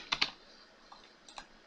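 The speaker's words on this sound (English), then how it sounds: "we're gonna type in Windows Longhorn" A few soft keystrokes on a computer keyboard: two quick taps, a pause, then a single light tap and another close pair, quiet and near, with no voices.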